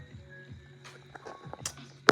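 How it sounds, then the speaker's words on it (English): A phone is set down hard on a surface, landing as one sharp, loud knock at the very end. Before it come faint rustling and light tapping handling noises. "I put my phone down. That was probably really loud."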